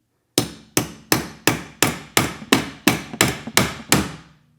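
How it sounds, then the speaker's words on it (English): Eleven evenly spaced metallic hammer taps on a wrench, working loose the windshield wiper arm of a BMW F30/F32. The strikes are sharp, close and steady, each ringing out briefly before the next, with no talking. "We're gonna use a hammer and we are going to tap to slowly loosen"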